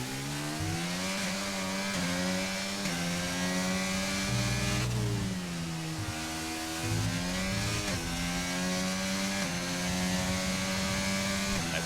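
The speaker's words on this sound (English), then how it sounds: "See this Alpine rocket ship go down the back straight" An Alpine Formula 1 car in a racing video game screams down the back straight at the Chinese Grand Prix. The loud, close, high-revving engine whine climbs through repeated gear shifts, with brief dips between each rising sweep.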